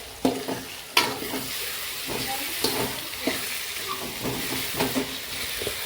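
Onion cooking in a pan for onion chutney, a close, steady sizzle and fry with spatula scrapes and a couple of sharp knocks against the pan, with no voices.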